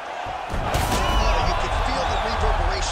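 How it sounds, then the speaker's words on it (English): A fighter is slammed down onto the mat in the UFC 5 video game, landing as one heavy thud amid steady crowd noise, with a commentator talking throughout. "as he slams him down there with conviction"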